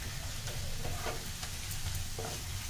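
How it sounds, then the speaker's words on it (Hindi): Grated carrot being stir-fried in a pan for carrot and semolina burfi, giving a steady close sizzle with soft scraping stirs scattered throughout and no talking. "तो ये देखिए गाजर हमारा बिल्कुल गल रहा है। तो हम इसे थोड़ा देर और भूनेंगे।"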